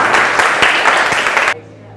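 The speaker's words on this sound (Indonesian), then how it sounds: "Tepuk tangan buat Rifa." A class applauds a student named Rifa, a loud, even round of clapping lasting about a second and a half before stopping abruptly.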